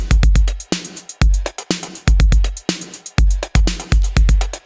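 Full electronic drum kit from a retro synthwave track, with kick, snare, and hi-hats playing together in a steady, punchy groove. The low end is compressed and scooped, and the loop repeats evenly.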